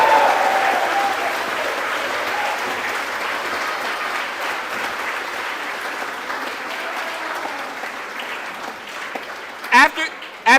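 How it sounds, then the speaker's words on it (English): Diners at a dinner event give sustained applause for the kitchen staff, a dense wash of clapping filling the room, fading slightly before a few close microphone bumps at the end. "let's give a round of applause to the people working back there in the kitchen"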